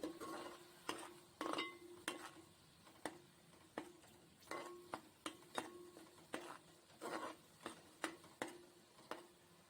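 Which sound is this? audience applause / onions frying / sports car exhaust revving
onions frying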